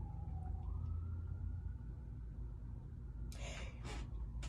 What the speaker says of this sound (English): I'm not surprised the ambulance is going off in the background